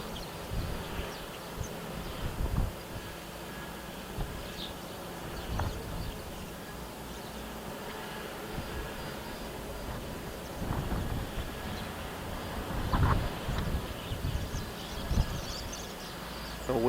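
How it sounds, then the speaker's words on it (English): Strong, gusty wind buffets a microphone at Luton Airport, a steady broadband rush with louder gusts every few seconds, and faint speech-like sounds under it. "Just wish the wind would drop down a little bit."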